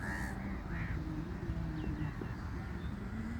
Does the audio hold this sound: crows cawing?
yes